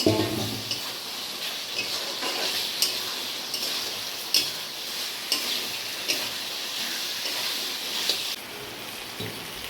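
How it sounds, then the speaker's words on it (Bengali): Pointed gourd and potatoes are sautéed in a spice paste for a vegetarian potol paneer curry. A bright, steady sizzle runs throughout, with periodic spatula scrapes against the pan and no speech. "এবার আমি পটল আলুটা ঢেলে নেব, নিয়ে কষে নেব।"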